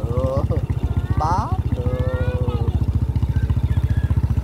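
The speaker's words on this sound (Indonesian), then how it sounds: "Kita bawa motornya pelan-pelan ya." A motorcycle rolls along slowly with a steady, low, pulsing engine putter close by, while voices talk over it.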